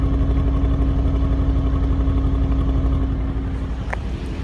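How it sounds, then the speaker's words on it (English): A 2017 Mercedes-AMG C63 S Cabriolet engine idles nearby with a steady, deep burbling rumble, even and continuous with no voices. "This is what it sounds like at idle."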